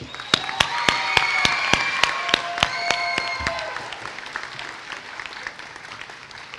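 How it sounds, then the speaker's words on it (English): An audience at an elementary school moving-up ceremony applauds award winners with scattered, sharp individual claps and some bright cheering sounds over a room murmur. The claps thin out and the sound fades toward the end. "Please give them a loud round of applause."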